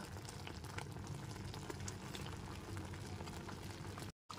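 Sugar syrup for a sweet-sour mango pickle simmers steadily on a medium gas flame, a continuous close bubbling and soft sizzle with no talk, briefly cutting out near the end.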